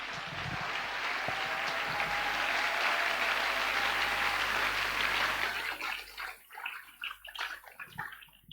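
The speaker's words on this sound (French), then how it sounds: "Est-ce que quelqu'un peut acclamer très fort le Seigneur?" A church congregation claps and cheers loudly for several seconds, a dense sustained wash of applause that fades into scattered, thinning claps near the end.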